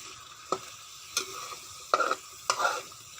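Red curry paste stir-frying in a little vegetable oil, with soft continuous sizzling broken by four distinct scraping stirs of a spatula in the pan, fairly close and without talk.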